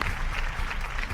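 Audience clapping on a Malayalam television game show, a short, dense burst of applause at steady loudness from start to finish.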